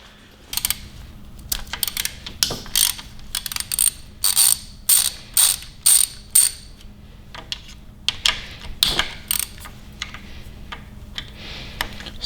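Ratchet clicking in short bursts while tightening 10 mm bolts during assembly of a 5.7L Hemi engine, sharp repeated ticks close by with pauses between runs, no talking.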